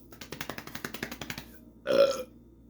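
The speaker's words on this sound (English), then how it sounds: "Those are real burps." A string of rapid, rhythmic real burps from a contestant in a burping contest, about a dozen quick pulses, then a pause and one longer, louder belch close to the microphone.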